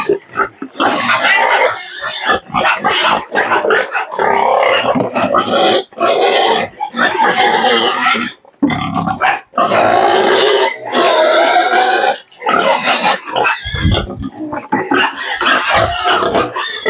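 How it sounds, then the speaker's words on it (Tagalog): Pigs on a pig-fattening farm grunt and oink noisily at feeding time, a dense, loud chorus of overlapping squeals and snorts that carries on throughout, with a few short gaps. "Sobrang ingay na po si Gelt"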